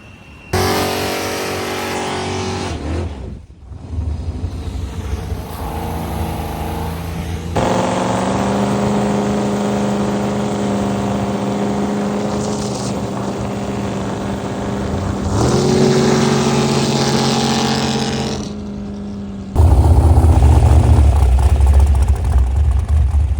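A 500+ cubic inch jet boat engine at Rollins Lake runs loud and close, a harsh sustained roar with a clear droning pitch that cuts out briefly, returns, and swells louder near the end.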